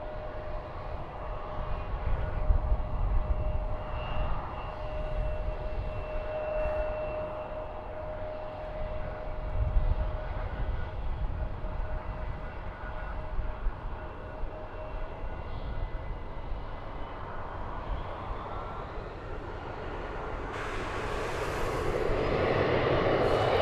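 Envoy airliner taking off from runway 36 right at DFW Airport: a low, distant engine roar rumbles steadily and swells louder and brighter toward the end.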